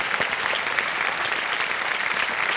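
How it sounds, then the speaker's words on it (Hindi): Studio audience applause on the Hindi quiz show Kaun Banega Crorepati, dense continuous clapping from a large crowd, loud and steady with no voices over it. "तालियों के साथ आपका अभिनंदन करते हैं"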